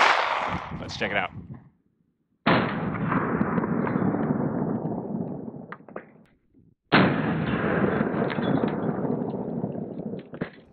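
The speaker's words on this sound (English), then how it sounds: "some ball 115 grain Minuteman munitions coming out of our Walther PDP compact" A 9mm Walther PDP compact pistol firing 115 grain ball Minuteman ammunition at a bulletproof mask, two sharp loud reports with decaying echo a few seconds apart, a brief spoken line before the first.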